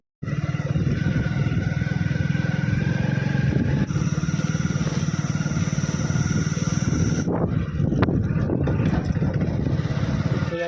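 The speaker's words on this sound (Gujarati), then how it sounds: "ચલો હવે જઈએ બાઈક લઈને ઘેર" A motorcycle ridden home from the farm fields, its engine droning loud and steady throughout at close range, with wind and road rumble and a few brief rattles near the end.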